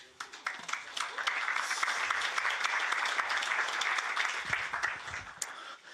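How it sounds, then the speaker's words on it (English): An audience at a conference in Brussels applauds with steady, dense clapping that holds for several seconds before starting to thin out at the end. "ladies and gentlemen, a round of applause for Luca Menesini."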